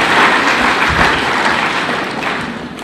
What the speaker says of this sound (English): let's give a round of applause for all our leaders who have spoken.